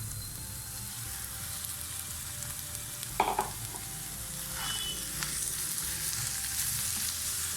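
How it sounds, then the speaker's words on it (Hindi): Chicken keema fries with sautéed onions in a pan, giving a continuous crackling sizzle, with a brief clatter of stirring partway through. "अब मैं इसके अंदर चिकन कीमा ऐड करूँगी।"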